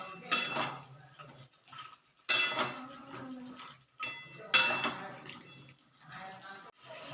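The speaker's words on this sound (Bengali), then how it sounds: "আমি এই মাংসটা ঢেলে দেবো এই গ্রেভির মধ্যে" Cooked chicken meat tipped from a container into gravy in a pan, heard as three separate bursts of clattering metal and wet slopping, each fading to quiet before the next.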